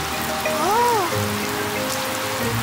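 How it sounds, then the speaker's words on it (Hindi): Water sprays from a garden hose in a Peppa Pig cartoon as the family washes the car, a steady hiss of spray lasting a couple of seconds, fairly loud, with a short tonal whoosh of a cartoon sound effect. "डैडी पिग, प्लीज पानी बंद कर दीजिए।"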